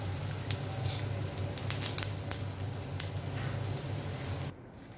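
Food sizzling in hot oil while frying outdoors, a steady crackling hiss with a low hum beneath and scattered pops, then an abrupt drop near the end.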